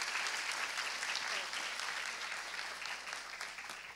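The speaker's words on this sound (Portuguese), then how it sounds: "Salva de palmas para a Ana Toni." Applause from an audience for a speaker at a conference on climate action and social inclusion, a steady, fairly faint patter of clapping hands that continues throughout without pause.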